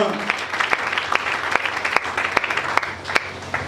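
Church congregation clapping together in steady, rhythmic unison, a sustained wash of hands close by with voices mixed in.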